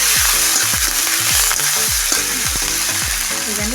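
Chilli, capsicum and chopped tomato fry loudly in hot oil while a home cook makes paneer, a steady dense sizzle broken by repeated scraping, clanking stirs of a spoon against the pan.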